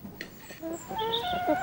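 Chickens on an apple farm in Normandy give a few soft clucks and short calls, fairly faint against a quiet outdoor background, with no voice.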